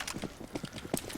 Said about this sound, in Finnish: Kuuluu askeleet.